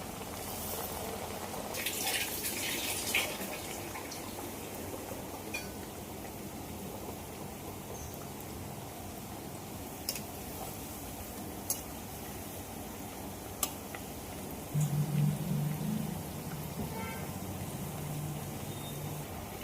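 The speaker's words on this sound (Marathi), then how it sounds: "आता असे आपण बाकीचे सर्व पण वडे तळून घेऊया" Vadas deep-fry in hot oil, giving a steady soft sizzling hiss throughout with a few faint clinks and one brief bump partway through.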